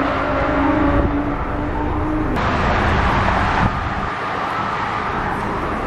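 A car on a dealership test drive, a steady close interior road rumble and engine hum with no voices heard.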